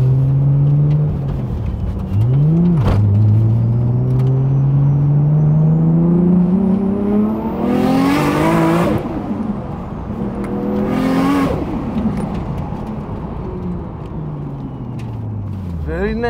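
A 600bhp Nissan Skyline R34 GTR street build revs and accelerates through the gears loud and close from inside the car. The engine note climbs and drops in sweeping pulls with shift breaks, and occupants talk over it.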